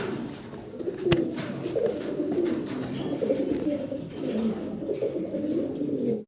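Several pigeons coo continuously, low throaty calls overlapping in a steady murmur, with one sharp click near the start.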